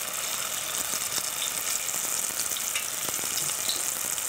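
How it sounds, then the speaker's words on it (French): Samosas fry in hot oil with a continuous bright crackling sizzle, steady and fairly close, dotted with small pops and bubbling. "je mets les samoussas dans l'huile chaude."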